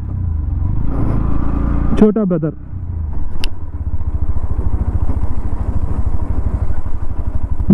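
A Bajaj Pulsar NS125 motorcycle engine while riding, a steady close rumbling drone throughout, with a rider talking over it.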